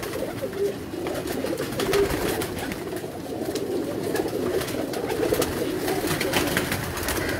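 Pigeons coo continuously in low, repeated, rolling calls, several birds overlapping at close range.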